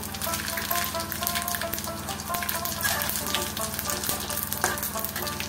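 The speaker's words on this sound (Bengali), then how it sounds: "এই মাছ ভাজার তেলের ভিতরেই আমি আর তেল নেইনি, দিয়ে দেব আধা চামচ জিরে" Half a spoon of cumin seeds sizzles in hot oil left over from frying fish, a steady, close crackling hiss that holds for the whole stretch with no talk over it.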